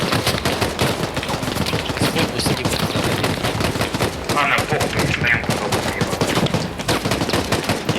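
Gunfire crackles through a Squad video game battle, with dense, rapid bursts of shots and machine-gun fire overlapping continuously at close to mid range.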